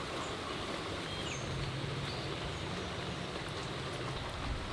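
Steady rain falls and drips through a thatched house roof, a constant broadband hiss at close range with faint bird calls in the distance and no talking.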